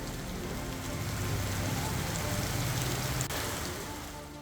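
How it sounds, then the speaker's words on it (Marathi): Heavy monsoon rain pours steadily over Roha town in Raigad, a dense continuous hiss of downpour drumming on surfaces, loud and unbroken from start to finish. "रायगडच्या रोहा शहरात मुसळधार पावसाने हजेरी लावली."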